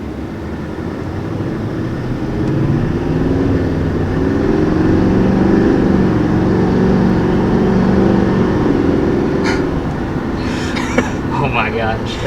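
A 2020 GMC Sierra 2500 HD pickup truck with 910 pound-feet of torque accelerating on the road, its deep engine drone swelling from inside the cab, with a voice speaking near the end.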